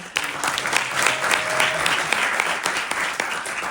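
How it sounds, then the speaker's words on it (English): Audience applause at the opening of the Somali Week Festival in London, a sustained, fairly loud burst of many hands clapping with a few sharper claps and faint voices underneath. "Please give them a round of applause."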